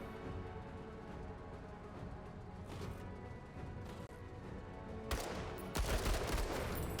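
Gunfire in the tactical game Menace during tank-on-tank combat, with distant shots under a steady game soundscape before a louder burst of rapid fire near the end.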